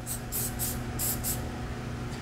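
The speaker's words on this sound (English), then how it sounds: "you have to spread it quite a bit of pan coating spray on there" Repeated short bursts of pan coating cooking spray hissing onto salmon fillets before grilling, five quick close sprays in an uneven rhythm over a steady low background hum, no talk.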